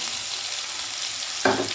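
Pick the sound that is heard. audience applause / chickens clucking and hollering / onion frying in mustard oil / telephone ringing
onion frying in mustard oil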